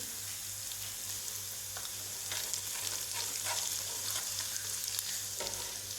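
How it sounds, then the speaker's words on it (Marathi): Red chilli powder and chutney frying in hot oil with browned garlic and garlic paste for a mushroom masala, a steady close sizzle with faint stirring scrapes throughout and no voices. "ह्याला पण थोडंसं भाजून घ्यायचं तेलामध्ये."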